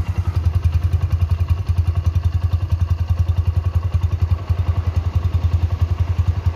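A factory-standard Honda Mega Pro Primus motorcycle engine idles up close with a loud, steady, fast-pulsing thump that holds an even rhythm throughout.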